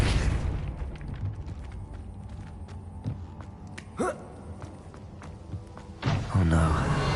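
A Depulso spell blast in Hogwarts Legacy, a punchy burst with a deep thud near the middle, followed by another heavy whoosh-and-boom later over a continuous magical hum and game effects.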